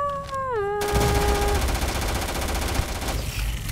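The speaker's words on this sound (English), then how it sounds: "This gun is fun, but highly unnecessary in how many bullets it shoots." Rapid automatic gunfire from a high-rate gun in Starfield rattles on continuously and loud for several seconds, preceded by a brief sliding whine at the start.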